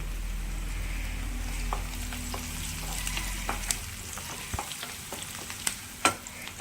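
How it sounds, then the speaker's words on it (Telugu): Curry leaves crackle in hot oil for a ridge gourd tempering, with a steady sizzle and scattered sharp pops over a low stove hum. No one speaks. "ఇదిగోండి బాగా వేగిపోయిందండి పోపు"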